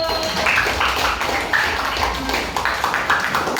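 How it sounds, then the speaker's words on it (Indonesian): A classroom of students claps for a group walking to the front, close, fairly loud applause with a rapid, uneven patter that carries on throughout. "Tepuk tangan dulu."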